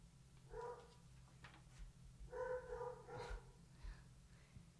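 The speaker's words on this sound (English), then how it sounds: "barking about something" A dog named Hilo barks indoors in the evening, two bursts of muffled, fairly distant barking with a soft yip, over a steady low background hum.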